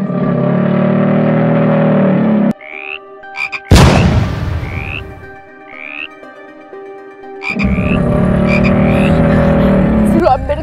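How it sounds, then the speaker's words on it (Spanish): A giant toad gives loud, deep, sustained croaks in two long bursts near the start and end. A sharp crashing thud and a few electronic warbling tones break up the quieter middle section. "Sí, Néstor, en este lugar hay un sapo gigante y se lleva a las personas que están sentadas ahí"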